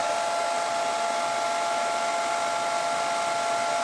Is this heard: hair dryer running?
yes